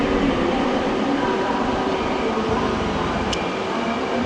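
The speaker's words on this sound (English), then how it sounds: "And there goes the Thalys train to Dortmund." A Thalys train to Dortmund passes through Köln Hauptbahnhof, a loud continuous rumble and rush filling the station throughout.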